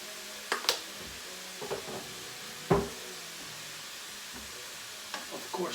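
Ground meat browning in a pan for Italian stuffed peppers, a soft steady sizzle broken by a few scraping stirs and clinks of a utensil, close and quiet.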